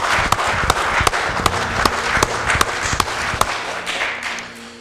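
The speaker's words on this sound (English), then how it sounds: "let's give a big round of applause to our royalty again" Audience at a small-town festival scholarship pageant applauding the royal court, a dense steady patter of hand claps with sharp individual claps standing out, moderately loud and fading slightly at the end.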